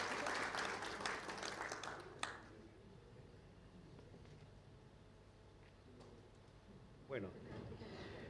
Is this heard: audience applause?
yes